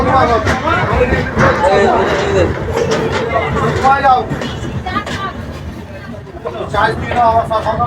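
The 13153 Gour Express night train pulls into Bandel Junction with a low, continuous rumble under dense crowd chatter and nearby talking voices.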